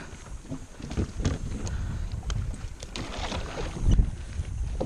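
Kayak paddle strokes splashing on a Texas Hill Country river, close and irregular, with water sloshing and light wind noise against the microphone.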